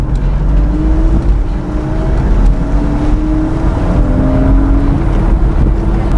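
Hard acceleration of a Porsche Boxster 986 fills the scene with a loud, continuous engine roar, rising through gears with repeated upward pitch sweeps, close and without talk.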